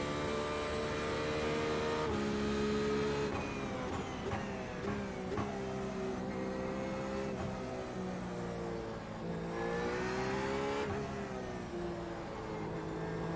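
A race car engine in an IMSA sim race at Silverstone revs and accelerates, its pitch climbing and dropping through gear changes in a continuous, loud, close drone with no talking.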